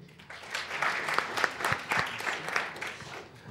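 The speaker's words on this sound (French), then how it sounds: "vous pouvez l'applaudir" Scattered applause from a tech hackathon audience, a fairly soft and uneven patter of claps lasting a few seconds without speech.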